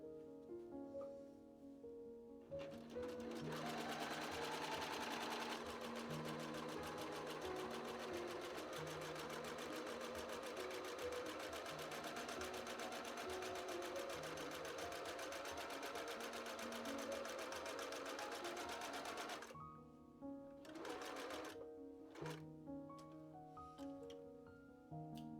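A sewing machine stitches fabric cuffs for a Halloween pumpkin shirt, a long continuous whirring run of about sixteen seconds, close and steady, followed by a few short bursts as it stops and starts.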